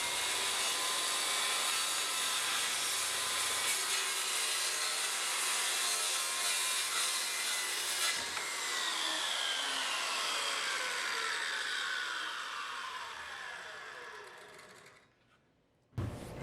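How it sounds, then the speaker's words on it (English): An EZ Smart Saw with its base locked in place cuts through wood, a loud, steady sawing roar lasting about fifteen seconds before winding down and stopping abruptly, then a brief final burst. "Now from there, I'm ready to go ahead and make my cut."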